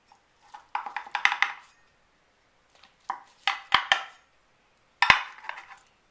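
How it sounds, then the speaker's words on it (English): A baked lasagna is cut and a piece is lifted onto a plate, heard as three close bursts of metal utensil scraping and clinking against the pan and plate, separated by brief silences, with no voices. "And now I want to cut some and put it on a plate and show you what it looks like on the plate."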